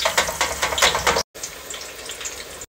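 Eggplant slices lowered in a basket into a deep fryer hiss and crackle loudly with bursts of bubbling. The sizzle cuts out briefly and then returns as a steadier, softer fry.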